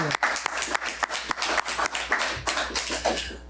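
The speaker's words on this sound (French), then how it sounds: "Une main d'applaudissement aussi pour Michel." Applause at a municipal council meeting, a small group clapping with distinct, fairly loud individual hand claps in an uneven rhythm for a few seconds.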